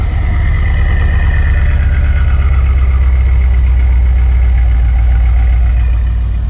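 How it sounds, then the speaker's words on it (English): A Mercedes S-Class turbocharged engine idles at the exhaust, a loud, steady low rumble with an even pulsing throb that holds without a break from start to finish. "watching me film my own car's exhaust"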